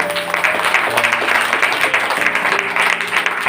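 A church congregation claps together, a loud, dense patter of hands that keeps going throughout, with faint tones and murmuring in the background.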